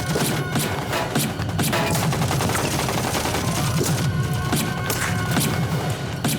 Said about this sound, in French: N'arrêtez pas de tirer!